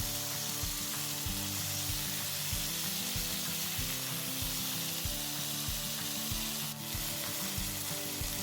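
Chicken pieces sizzle steadily in a hot pan after being flipped to cook the other side, a dense crackling fry with periodic soft knocks or stirring sounds, close and continuous without speech.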